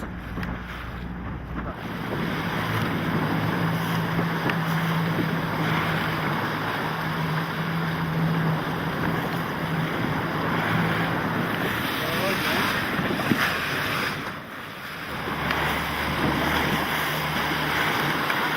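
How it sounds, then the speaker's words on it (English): Gyptis, a replica 6th-century BC Greco-Massalian wooden sailboat, under a wind-filled mainsail cutting through waves: continuous rushing water and hull wash with heavy wind buffeting the microphone, steady and fairly loud, no voices. "the Gyptis looks great, its mainsail filled by the wind, which easily carries the boat through the water with elegance and lightness, breaking through the waves"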